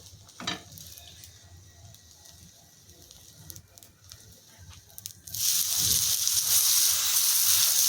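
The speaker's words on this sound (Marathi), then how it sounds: "तव्याला बटर लावून घेऊयात आणि त्याच्यावरती आपल्याला पाव टाकून गरम करायचे" Pav bread toasting in butter on a hot griddle for kheema pav, a quiet crackle at first, then a loud, steady sizzle that bursts in partway through and holds to the end, with no talk.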